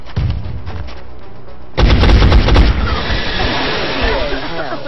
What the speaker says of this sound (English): Point blank shot.